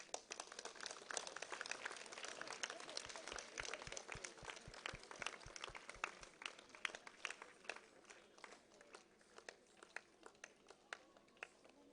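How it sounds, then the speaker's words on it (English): Scattered applause sounds at a book release during a religious congregation's triple event, dense clapping that starts soft, swells, and then thins out to a few separate claps, heard from a distance and faint. "Round of applause"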